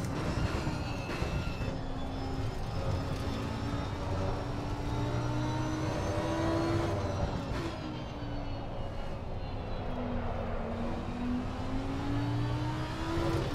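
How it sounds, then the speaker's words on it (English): A race car engine in Assetto Corsa Competizione holds a steady, loud howl, its pitch rising and falling through gear changes as the sound reflects off Armco barriers along the track, with no talking. "Very cool to hear the sound of the engine coming off the Armco barriers"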